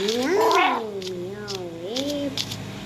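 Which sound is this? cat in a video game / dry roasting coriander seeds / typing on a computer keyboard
cat in a video game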